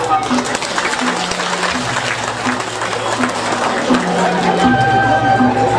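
A crowd claps during a Balinese drama gong stage performance, the applause mixed with sustained instrumental tones and voices throughout.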